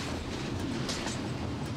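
A train rolls along railway tracks as a continuous, dense rumble with a steady wash of wheel and rail noise, heard close and fairly loud throughout the short stretch.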